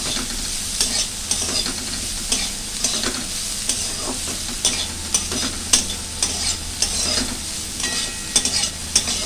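Onions sizzle loudly alongside bitter gourd in a pan, a dense continuous frying hiss with frequent light stirring scrapes and clicks, close up and with no talking.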